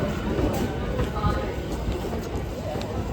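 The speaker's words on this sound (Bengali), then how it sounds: "ট্রেন অলরেডি স্টেশনে এসে গেছে। এই ট্রেনেই আমি যাব কাজের জন্য।" A local train pulls in at Duttapukur station platform, a steady, dense rumble filling the scene beneath continuous crowd babble and faint clatter.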